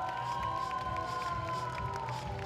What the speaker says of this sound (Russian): Аплодисменты Анастасии.